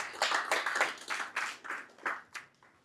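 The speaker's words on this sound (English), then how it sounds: "I want you to give yourself a round of applause" Students at a school leadership conference give themselves a round of applause, a thin scattered clapping from a small group, uneven and fading out after a few seconds.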